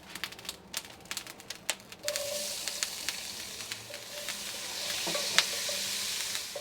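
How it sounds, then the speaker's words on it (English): Onions sizzle and crackle in hot olive oil inside a Dutch oven, a steady frying hiss that swells after a few seconds, with intermittent stirring clicks and scrapes up close and no talking. "Heat that up a little bit before we add the onions."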